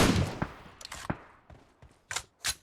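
Gunfire in a PUBG Mobile match: a burst of shots with a heavy opening blast, then scattered single reports and two sharp late shots, fairly loud and without talk.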